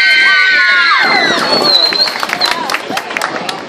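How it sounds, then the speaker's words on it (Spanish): An audience at a costumed dog contest in a shopping plaza breaks into applause for dancers, scattered claps and crowd murmur following a short passage of high tones, with some talk mixed in. "Un aplauso para las bailarinas."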